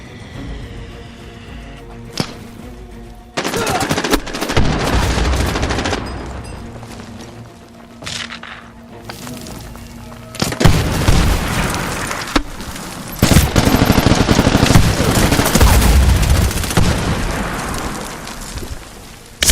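Loud bursts of rapid machine-gun fire in Medal of Honor: Warfighter on PS3, repeated volleys with short gaps and heavy low rumble, no talking.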